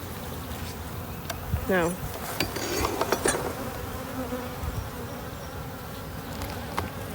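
Honey bees buzz steadily around an open hive during a hive check, a constant close insect drone with clinks and knocks of handling and a brief spoken word from someone nearby.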